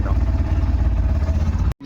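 A motorcycle engine at the start of a Sunday group ride toward a river-side camp, a loud close rumbling idle with clattering mechanical noise, cutting off abruptly near the end.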